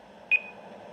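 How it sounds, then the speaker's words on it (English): A single short electronic beep, a bright tone that quickly fades into a faint lingering ring over low background noise, heard indoors. "What's that beeping?"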